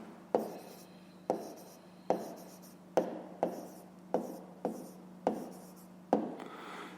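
Pen strokes scratch on paper as an answer is written out by hand, a series of short, quiet scribbling bursts at roughly regular intervals, close up with no talking.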